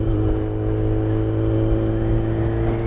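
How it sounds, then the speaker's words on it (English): A Yamaha FZ1 motorcycle engine idles steadily as it warms up, a loud, continuous close-up drone with a rough, vibrating hum and no change in pace. "Bike is warming up, so it's starting to get a little bit better in the vibration aspect. It's still pretty loud."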